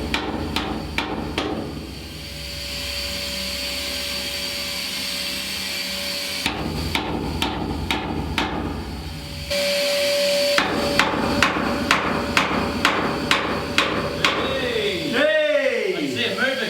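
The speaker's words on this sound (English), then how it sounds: "Just the chisel" Repeated sharp hammer strikes on a chisel, loud and close, fall in quick bursts separated by stretches of steady machine-like drone, with a metallic ringing tone between blows and a brief scraping sweep near the end.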